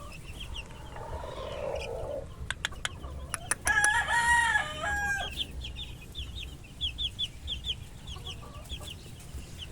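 Young Boston Roundhead gamefowl roam a grassy range. One loud rooster crow rises midway amid scattered clucks, with small birds chirping steadily in the background.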